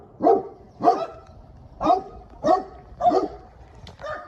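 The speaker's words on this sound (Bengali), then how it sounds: "দেখুন কুকুরগুলা কত কান্নাকাটি করছে।" Dogs in a village give about six loud, close yelping barks at a fairly even pace, with a whining edge and short quiet gaps between them.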